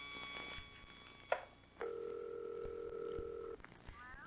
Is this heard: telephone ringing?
yes